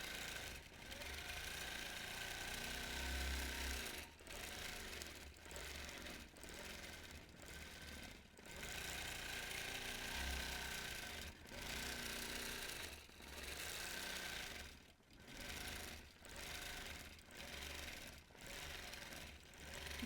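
A longarm quilting machine stitching a Lone Star quilt: a steady, fast mechanical hum in bursts of a few seconds, broken by brief pauses as the machine stops and restarts.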